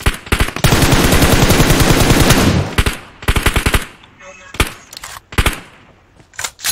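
Automatic gunfire in the PUBG Mobile video game: a loud sustained burst of rapid shots, then scattered separate shots and short bursts, with brief quieter gaps between them.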